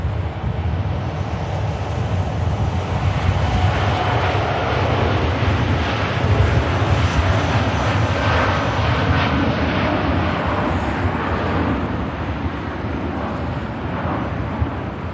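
A Saudia Boeing Dreamliner jet takes off from Manchester Airport in rain, its engines a loud, steady broadband roar that holds throughout with a touch of wind noise.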